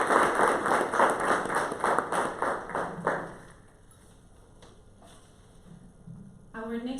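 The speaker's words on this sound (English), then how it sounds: "Please, let's give a warm round of applause" Audience applause for a panelist at a STEM forum panel, a burst of clapping that fades out after a few seconds, leaving a quiet room before another sound starts near the end.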